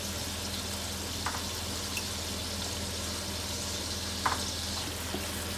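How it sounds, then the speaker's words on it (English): Laksa paste with onions and garlic frying in a pan, a steady low sizzle under faint background hum with a couple of brief stirring clinks. "And we now have to fry this well"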